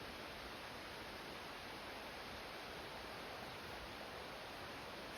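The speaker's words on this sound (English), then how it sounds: "you can hear the creek in the background and the wind in the trees is" Steady broadband rush of a creek flowing below on a muddy hiking trail on Archer Mountain in Washington, blended with wind in the trees, constant and unbroken with no voices.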